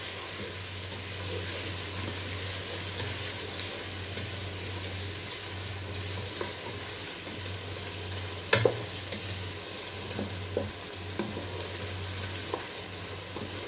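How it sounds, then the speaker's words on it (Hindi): Steady sizzling of chicken frying with garlic ginger paste in a pan, with a few clinks and scrapes of stirring near the end; no voices. "इसे 1 मिनट के लिए चिकन के साथ अच्छी तरह फ्राई कर लेंगे"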